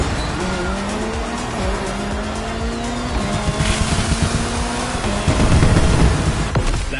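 A McLaren race car roars through The Crew Motorfest video game, engine revving and shifting loudly as tires squeal and skid continuously, with the intensity building toward the end.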